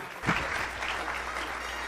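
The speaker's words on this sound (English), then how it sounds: "another round of applause for our latest inductee, Matthew Chick Downing" Applause from an audience at a Kansas Sports Hall of Fame induction ceremony, greeting a newly honored inductee; a steady, moderately loud wash of clapping that begins abruptly and carries on evenly throughout.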